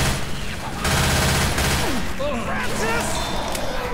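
Heavy gunfire in the zombie shooter Left 4 Dead 2: sustained, loud, close bursts of automatic shots with scattered impacts, and voices talking over the shooting.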